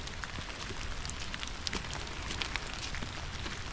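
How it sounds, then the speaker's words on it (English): Soft, steady patter of rain with scattered drop ticks, faint and continuous, no voices. "I do see Bragi standing out in the rain, getting soaking wet."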